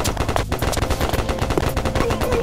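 Rapid, loud gunfire rattles through Mini Attack: Urban Combat, a steady stream of sharp, closely spaced shots in quick bursts with no talking over them.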